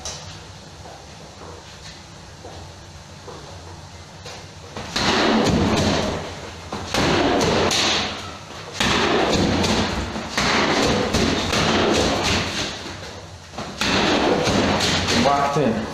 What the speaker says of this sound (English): you wanna see some real body shots?